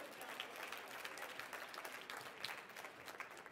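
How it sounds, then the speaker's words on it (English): Audience at a motivational talk clapping steadily and densely for a few seconds, a continuous wash of many hands at moderate distance with no voices on top. "Clap it out"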